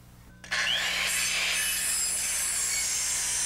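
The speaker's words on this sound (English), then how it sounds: "After snapping a line and cutting the lookouts to length" A power saw cuts wooden rafter lookouts for a roof to length, starting abruptly after a brief quiet moment and then running as a loud, steady whine with no talking.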